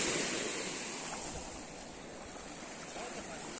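Sea waves wash into a seaside cave near Ratneshwar Mahadev by Dayal village, a constant roaring surf wash with wind noise, moderately loud and unbroken, with no talk.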